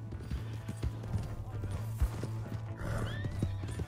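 A horse in Red Dead Redemption 2 gallops with rapid hoofbeats and lets out a loud neigh, close and busy, with voices shouting over the action.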